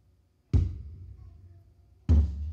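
Two deep, booming kick drum hits come from a phone e-drum app, spaced about a second and a half apart. Each thud decays slowly in a quiet room with no talking.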